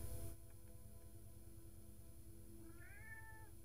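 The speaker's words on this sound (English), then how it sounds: "Meow. Meow. Meow. Meow." A cat gives one short, faint meow near the end, heard close in an otherwise quiet room with a low steady hum underneath.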